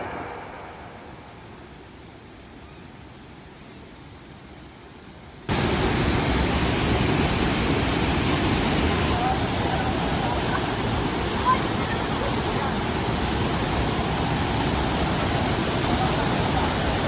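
Small mini falls at a spring resort: faint hiss at first, then a sudden jump to a loud, steady rushing wash of falling water that holds unbroken to the end.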